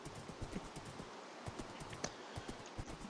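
Horse hooves clip-clop in the Minecraft video game, a steady run of light, evenly spaced taps over a faint rustling bed.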